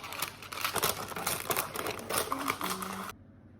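Baking paper crinkled and rustled as it is pressed and straightened inside a cake tin for a lemon drizzle cake, a close, busy run of crackling crinkles that stops abruptly near the end.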